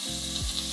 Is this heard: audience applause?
no